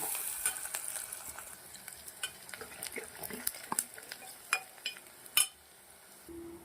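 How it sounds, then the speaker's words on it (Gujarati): Onions and green chillies sizzle steadily in a pan while a utensil repeatedly scrapes and taps, sharp clacks punctuating the hiss at an uneven pace. "ડુંગળીને સાંતળી લેવાની છે"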